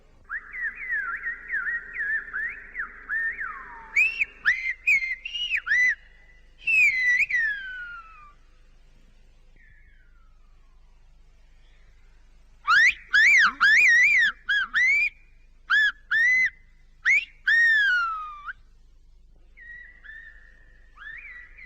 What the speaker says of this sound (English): That is the unique whistling language of Gomero.